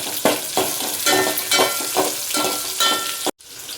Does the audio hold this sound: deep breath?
no